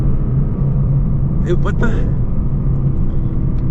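A Lexus LC500 engine drones loudly and steadily throughout, held at high revs while the transmission fails to upshift, with a brief exclaimed voice partway through.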